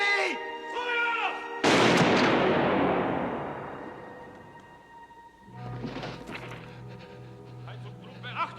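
Rifle volley from a German firing squad in a 1990 film about the plot to kill Hitler: one loud, sharp simultaneous crack that booms and decays over several seconds, with tones and shouted commands around it.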